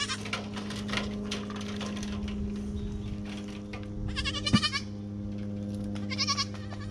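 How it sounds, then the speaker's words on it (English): Bottle-raised baby meat goats give a few short, close bleats, with a couple of clear cries standing out over quiet farm background noise. "Very rewarding to have bottle baby goats."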